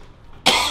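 A single sharp, loud cough bursts out close by after a moment of quiet background.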